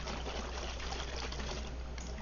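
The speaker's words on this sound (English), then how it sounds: "Pour all that in." Bouillon water from a jar being poured into a cooking pot makes a short, soft, steady trickle that splashes close by for about two seconds.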